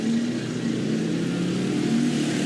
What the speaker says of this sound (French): Non, non, c'est un tuk-tuk. Et c'est les tuk-tuk qui sont boostés.